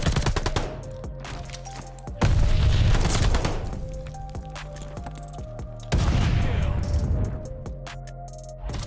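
Gunfire from a Call of Duty: Vanguard Hardpoint multiplayer match: loud bursts of rapid shots and booming blasts at about two and six seconds, over a constant bed of game sounds, with voices speaking throughout.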